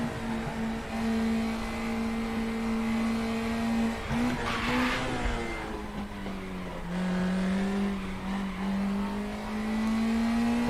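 A race car in the RaceRoom racing game brakes into turn 1: a steady, droning engine note dips and wavers as the revs fall, then climbs again as it powers out.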